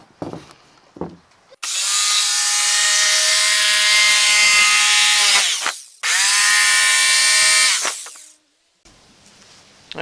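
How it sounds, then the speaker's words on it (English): A jigsaw cuts out a Pac-Man Santa holiday lawn ornament in two loud, steady bursts of buzzing, a long run and then a shorter one after a brief pause, with quiet handling noise before and after. "We're just gonna follow this line with the jigsaw, and then we'll come in, turn it a little bit, and follow the other line here with the jigsaw."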